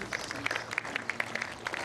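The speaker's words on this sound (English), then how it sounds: "well, the crowd give her applause" A crowd applauds at a women's singles lawn bowls final, the light, scattered clapping sounding somewhat distant and steady through the short stretch.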